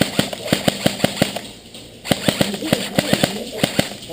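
Repeated sharp airsoft gun shots crack out during an outdoor skirmish, more than a dozen fairly evenly spaced pops with a brief gap midway, close and loud, with players talking faintly in the background.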